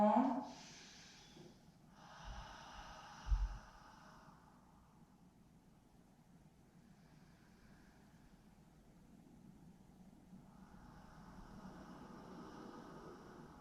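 Slow, deep breaths during a seated Pilates exercise on a chair and mat: a soft airy inhale and exhale near the start, then quieter breathing that swells again toward the end, with faint background hiss.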